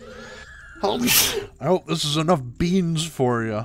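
A sneeze from a character in the video game The Legend of Zelda: Majora's Mask, a brief burst set among loud spoken exclamations from a nearby voice.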